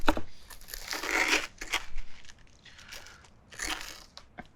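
A knife cuts through a crispy-bottomed mushroom Detroit-style pizza in close, loud crunching bursts, several crackling strokes separated by short pauses.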